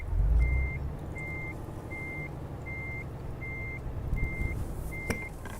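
A heavy truck's reversing alarm in Euro Truck Simulator 2 beeps seven times at an even pace over a low diesel engine rumble, with a hiss of air near the end.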